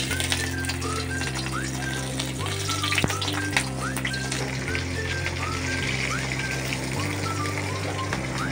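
Dried tuyo fish sizzles steadily in hot oil in a pan, a continuous loud crackle and hiss with a looping rhythmic musical bed underneath.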